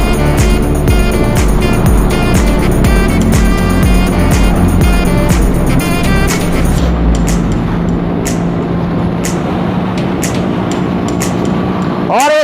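Motorcycles ridden in a group along the Opal Coast road, a steady loud engine drone with wind noise throughout, with brief bursts of rider talk over it.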